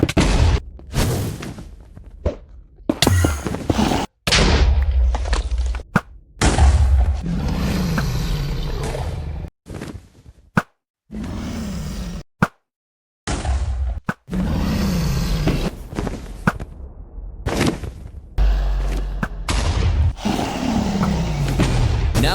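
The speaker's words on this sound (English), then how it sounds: "I towered up and destroyed every end crystal one by one" End crystals in Minecraft blowing up one after another, loud booming blasts separated by short silent gaps, with rumbling roars between them.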